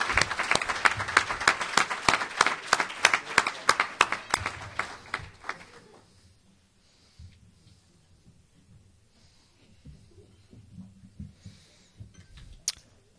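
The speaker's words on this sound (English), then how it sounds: "Please give a round of applause for Joe O'Donnell, 2016 Pace Athletic Hall of Fame inductee." A banquet crowd at a Hall of Fame awards dinner applauds an athletic inductee, loud, dense clapping for about six seconds that quickly thins to a few scattered claps and quiet room noise.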